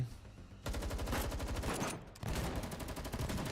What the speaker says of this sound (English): The sounds of gunfire, the Varjägers yelling, and the girl's frantic footsteps blend together in the pitch-black alleyway